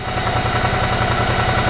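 A motorcycle engine idles at a steady, even pulse during a coolant flush, with a constant whirring hum running alongside it.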